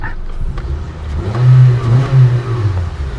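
A used Honda Civic engine idles around 700-800 rpm then revs up briefly a couple of times, close and loud, settling back between revs.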